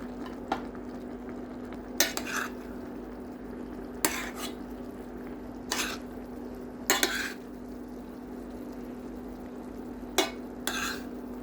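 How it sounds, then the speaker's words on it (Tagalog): Fried fish set into a pan of tomato egg sauce (sarciado), giving soft clinks and scrapes of utensil against pan at intervals over a steady low simmer and hum, with no talking. "Now let's put in our fried fish."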